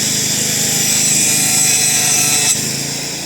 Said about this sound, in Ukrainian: Розпилюємо трубу пополам.